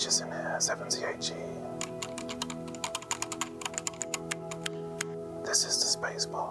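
Keys clatter on a Nightfox mechanical keyboard fitted with 78g Zelio switches, a rapid run of crisp, close clicks and taps while a voice speaks softly over a steady low hum.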